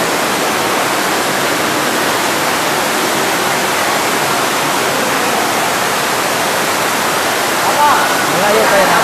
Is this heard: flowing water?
yes